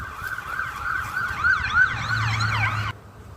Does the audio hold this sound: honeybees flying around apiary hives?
no